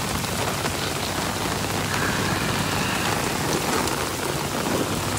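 Rain falls steadily during the rainy season, a loud, dense, continuous patter and hiss close by with no breaks and no voices.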